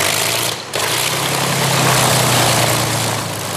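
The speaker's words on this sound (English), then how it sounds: "The sound of the Curtiss Kittyhawk, and it's music to this man's ears." A Curtiss Kittyhawk warplane's piston engine and propeller run steadily with a loud, full roar, heard close and continuous with a brief dip early on.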